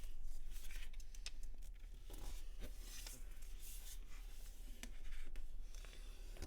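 Thin paper being folded and creased for an origami robot figure, with steady close rustling, rubbing and crinkling throughout and brief sharper crackles as the folds are pressed flat.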